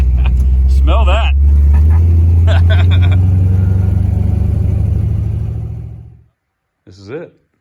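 Car engine revving loudly during a burnout, a sustained heavy roar for about six seconds that fades out, with a short shout over it and brief voices near the end.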